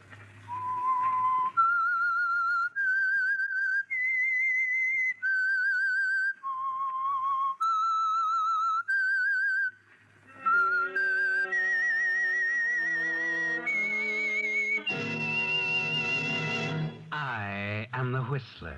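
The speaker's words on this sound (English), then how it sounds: "That whistle is your signal for the Signal Oil Program" A lone performer whistles the eerie theme of the 1940s CBS mystery radio program The Whistler, a slow run of clear sustained notes, followed by a brief orchestral chord swell.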